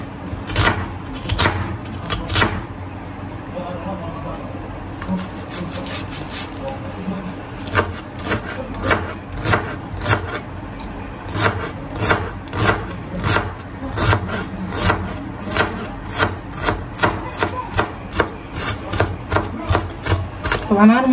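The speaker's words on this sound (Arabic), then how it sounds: "أضوج من ثرم البصل" A knife chops onions on a cutting board in a steady run of crisp, evenly spaced strokes, close and clear, with someone talking at times between the cuts.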